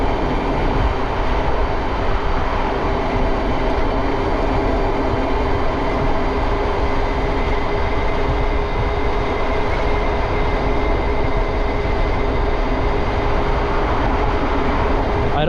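A BBSHD mid-drive electric bike motor on a Flipsky controller runs at full throttle climbing a steep hill, a loud steady whine over constant rushing wind and road roar, unbroken throughout.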